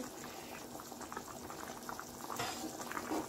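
Okra in red tomato sauce bubbles steadily in a pot over lowered heat, a soft, continuous, close simmering burble with no talking.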